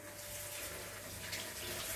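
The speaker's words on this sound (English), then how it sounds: "rinse this under water too, cold water" Cold water runs steadily from a kitchen tap while chicken is being rinsed, a continuous hiss of flowing water at moderate level with no talking over it.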